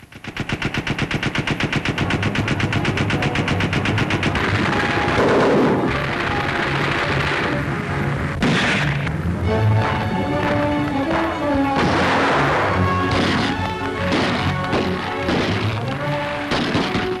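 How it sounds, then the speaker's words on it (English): Gunfire from WWII German film footage of troops fighting street by street through a factory district: loud, sustained machine-gun bursts and crashing blasts layered over dense battle noise, with no talking. "the German film of Hitler's troops penetrating into the factory district, street fighting"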